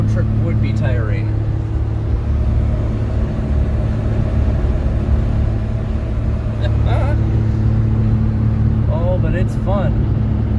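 Steady engine and road drone from inside a 1996 Daihatsu Mira TRXX Avanzato kei car while driving, a constant loud hum with tonal bands and faint passing noises.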